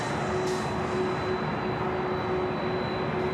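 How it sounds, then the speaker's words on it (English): A Delta Boeing 767-400ER airliner taxis at LAX airport, heard as a steady, distant jet engine roar and whine that holds level throughout, with no voices. "It's Delta 767 to 400 ER heading to Atlanta, Georgia, flight 446."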